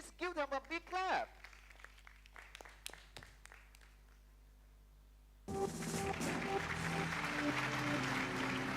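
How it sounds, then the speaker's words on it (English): Audience at a quiz competition breaks into sustained applause, a dense wash of clapping from the crowd lasting several seconds after earlier scattered sounds and quiet. "Please give them a big clap."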